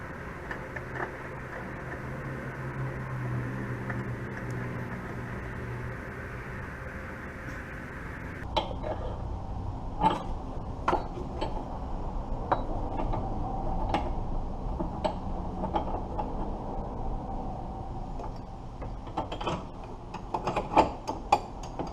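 Close metallic clicks and light taps of a tie rod end being spun onto a Ford Escape's threaded tie rod by hand, with a steady workshop hum underneath; the ticking becomes sparser and sharper after the first several seconds.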